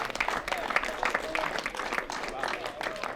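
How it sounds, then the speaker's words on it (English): Crowd applauding at an angling match prize presentation, steady dense clapping at moderate distance with faint voices mixed underneath. "give him a round of applause."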